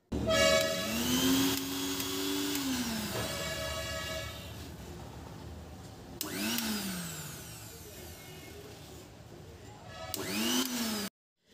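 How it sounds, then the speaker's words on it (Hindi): A repaired mixer grinder runs in loud, whining bursts that start, ramp up and cut off, with pitch sliding as the motor spins up and slows, three separate runs ending abruptly. "ये हमारा मिक्सर अब रेडी हो गया है अब हम इसको चला कर चेक करेंगे"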